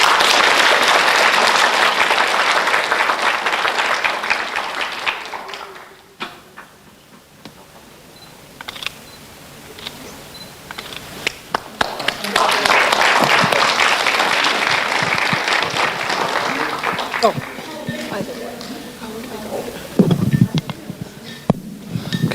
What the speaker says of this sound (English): Give Team J a round of applause.